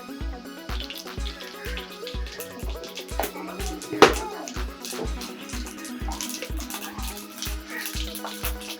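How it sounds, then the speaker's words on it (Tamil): Mustard seeds splutter in hot oil in a heated pan, the first step of a karunai kizhangu (elephant yam) fry. Steady close crackling and popping runs throughout over a regular low thumping, with no talk. "கடுகு பொரிஞ்சிருச்சு."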